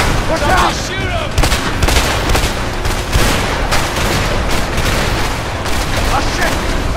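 Rapid gunfire and booming shots from the A Way Out action game rattle on continuously and loudly, mixed with bursts of dense firing throughout, with voices shouting over the combat.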